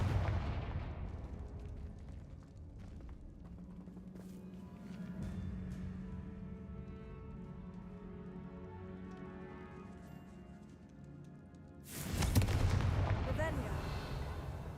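A Confringo explosive spell goes off in a Harry Potter video game: a low rumbling blast and crackle build mid-clip, with a sharp, loud burst near the end over ambient game noise.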